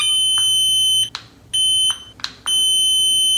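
A loud, piercing electronic alarm tone from a dog behavior corrector sounds in bursts, cut off by brief gaps with soft clicks between each burst.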